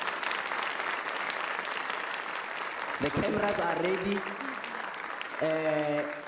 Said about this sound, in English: Can we please give her a thunderous round of applause?